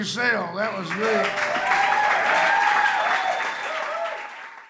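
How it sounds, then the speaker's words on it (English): Concert audience applauding in a barbershop, a steady wash of clapping under a singer's sustained, melodic voice that carries over the top. "All clap your hands for yourself"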